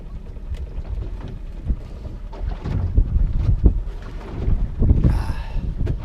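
Wind buffets a small fishing boat out at sea during mackerel fishing, a loud, close rumbling gusty roar with sloshing water and occasional creaks and knocks, swelling and easing over a few seconds.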